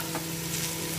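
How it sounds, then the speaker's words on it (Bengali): Potatoes frying in a pan on a gas stove, a steady close sizzle with a low hum underneath, no voices. "কি আমার আলু পুড়ে যাচ্ছে।"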